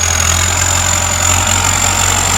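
A Ford 6610 turbo farm tractor's engine runs in a steady, loud drone with a constant low rumble and a thin high whine on top. Close by, with no voices.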